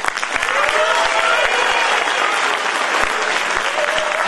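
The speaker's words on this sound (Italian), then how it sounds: "un altro grandissimo applauso" An audience applauds after a concert for asbestos victims' memorial day in Broni, sustained loud clapping from a crowd with a faint voice underneath.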